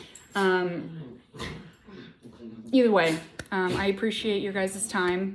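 Pet dogs at home whimper and yip intermittently in the background while a person speaks over them close to the microphone.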